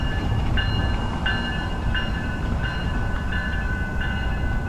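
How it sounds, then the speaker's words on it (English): A Sounder commuter train rolls past close to T-Mobile Park in Seattle, a steady loud rumble of rail cars with faint recurring high tonal squeals or whines over the whole stretch. "Coming right now is the Sounder Train, which many people take to the game from surrounding cities."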